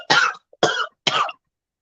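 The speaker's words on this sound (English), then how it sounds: "Sorry, my cough's so bad" Three harsh, separate coughs, close and loud, each about a quarter second long with short silent gaps between them.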